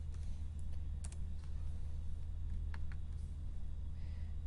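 A few light, scattered keystrokes tap on a computer keyboard, faint and close, under a steady low hum with no talking.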